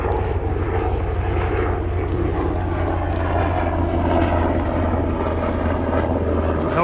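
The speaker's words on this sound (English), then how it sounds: "There's a helicopter flying." Helicopter flying overhead near a military National Guard camp, a steady low rotor and engine drone that stays loud and constant throughout, heard from woods at night.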